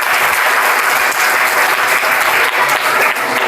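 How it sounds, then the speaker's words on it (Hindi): Children in a school audience at a magic show applaud, a loud, dense burst of clapping that holds steady and close for a few seconds. "तो तालियां"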